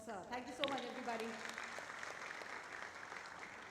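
Applause from the audience at the Ahmedabad Design Week 3.0 inauguration ceremony at Karnavati University, a fairly quiet, steady clapping that carries on for several seconds after a brief spoken phrase at the start.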